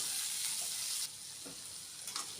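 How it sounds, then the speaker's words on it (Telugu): Ridge gourd pieces and tomatoes frying in oil, heard as a loud, close sizzle that drops to a softer crackle after a second, with light stirring sounds. "ఇప్పుడు కట్ చేసి పెట్టుకున్న బీరకాయ ముక్కలు, అలాగే 2 మీడియం సైజ్ టమాటాలను కూడా వేసుకొని మంచి నూనెలో ఫ్రై చేసుకోవాలి."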